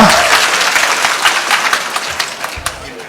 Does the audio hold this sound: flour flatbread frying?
no